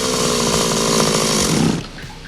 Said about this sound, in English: Bull wants to chainsaw off the explosive belt, but he runs into some performance issues.